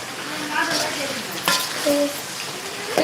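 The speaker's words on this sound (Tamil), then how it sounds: "நிஷா எதுக்கு மழை தானே வருது" Rain falls steadily outdoors with a dense, continuous hiss. The sound is fairly loud and close, and faint tones and distant voices drift faintly underneath.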